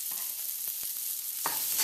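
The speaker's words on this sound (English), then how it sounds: "Give that a toss in there and let that cook for about 2 or 3 minutes" Pak choi is tossed with smoked bacon and garlic in a pan over low heat, making a continuous bright sizzle with a couple of quick stirring clicks and a brief louder burst near the end.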